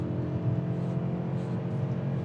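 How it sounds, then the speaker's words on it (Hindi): A 2023 Toyota Camry Hybrid accelerating under heavier throttle, heard as a steady, close engine and drivetrain hum with a slight rising whir, continuous and alone with no talking. "अगर मैं थ्रॉटल इसका थोड़ा सा ज्यादा प्रेस कर दूं ना तो ये कुछ ऐसा सा होगा"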